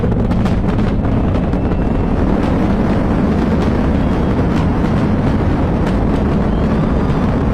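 Space Launch System core stage with four main engines roaring during launch, a loud, dense, continuous broadband rumble with no break, steady throughout.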